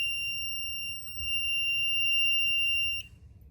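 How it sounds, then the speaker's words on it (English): After a pull station at the main entrance stair is activated, a home fire alarm system blares a loud, steady high-pitched tone that stops abruptly after about three seconds. "Let's set off this pull station here."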